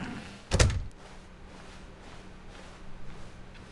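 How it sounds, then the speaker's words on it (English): A single dull thunk of a door opening in the video game The Stanley Parable on mobile, heard once over a steady low ambient hum. "he entered the door on his left."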